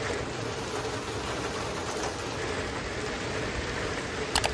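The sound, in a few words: rain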